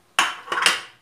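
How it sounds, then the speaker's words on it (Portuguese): A metal pressure cooker pot being handled in a kitchen: a sharp clanging knock followed by a second double clatter of metal, close and fairly loud, with no talking. "aqui tá a minha panela de pressão"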